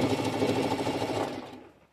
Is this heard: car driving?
no